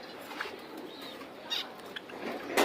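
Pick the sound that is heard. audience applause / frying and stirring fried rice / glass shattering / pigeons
pigeons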